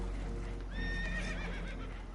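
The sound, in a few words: spooked horses neighing in the video game Red Dead Redemption 2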